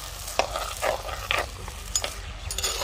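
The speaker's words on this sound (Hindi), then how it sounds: "अब मैं इसके अंदर प्याज ऐड करने लगी हूँ" Finely chopped onions sizzle softly in oil for a beef karahi while a spoon scrapes and stirs them around the pan in several quick strokes, close and alone.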